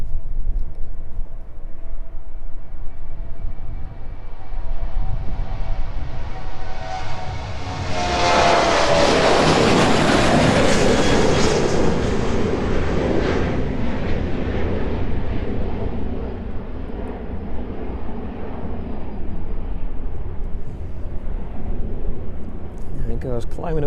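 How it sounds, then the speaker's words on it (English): An aircraft departs East Midlands Airport and climbs away, its engine roar swelling to a loud, broad peak near the middle, then fading slowly into a distant rumble, with a voice talking over it. "Let's catch that next departure out there, making its way down towards us now."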